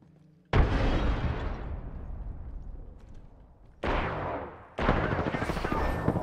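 Grenades explode in an Apex Legends firefight, a sudden loud blast that rumbles and fades, followed by two more sharp, heavy bursts close together.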